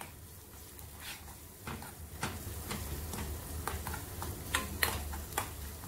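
Crushed dried red chillies frying in a pan, soft crackling and scattered ticking pops over a low background hum, fairly quiet and steady.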